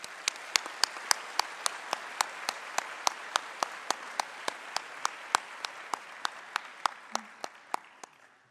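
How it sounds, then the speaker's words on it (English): Applause at a Binghamton University doctoral hooding commencement ceremony. A soft, steady wash of crowd clapping runs underneath, while one nearby clapper stands out with sharp, evenly spaced claps, and the sound tapers off at the end. "Please join me in applauding these special guests."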